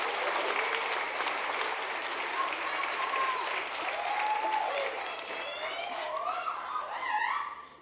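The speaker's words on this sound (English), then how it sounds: "can we all take a moment and applaud them?" Sustained audience applause at the Miss Hanover Area 2023 pageant, a dense steady wash of clapping for contestants on stage, with cheering and whoops rising near the end.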